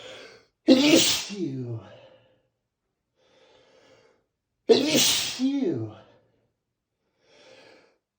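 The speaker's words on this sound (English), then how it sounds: "I have to sneeze." A woman sneezes twice with allergy-driven bursts about four seconds apart, each loud and close with a breathy exhale, followed by quiet pauses with faint breathing.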